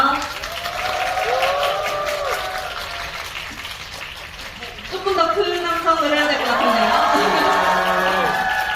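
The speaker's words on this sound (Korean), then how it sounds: "큰 박수와 한성으로맞아주세요" Audience at a Korean cinema stage greeting for a film team, with broad applause and cheering swelling up after a few seconds, while voices and crowd noise carry throughout.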